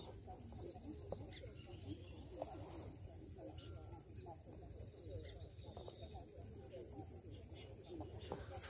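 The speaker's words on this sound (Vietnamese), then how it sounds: "bác chim nói chuyện với anh em tí" A trapped bird at dawn in a rural field gives soft, repeated cooing calls over steady insect chirping and a constant high hum, with low murmuring voices in the background.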